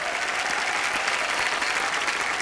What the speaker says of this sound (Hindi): और मनीषा जी के लिए और जोरदार तालियां।